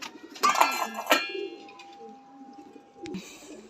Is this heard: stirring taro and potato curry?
no